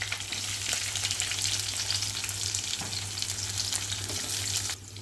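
Onions sizzle in a pan with green chillies, cumin and mustard seeds for an egg curry, a dense steady frying hiss close up that drops slightly at the end, with no talking.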